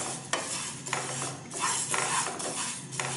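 Moong dal (pasi paruppu) dry-roasting in a pan, stirred in short scraping bursts: a dry, rattly rasp of lentils shifting against the metal, repeating every half second or so at close range.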